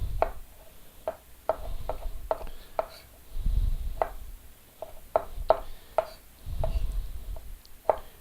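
A knife chopping tomato on a cutting board in a kitchen, a brisk series of sharp, close taps in uneven clusters, with soft low thumps from handling between them.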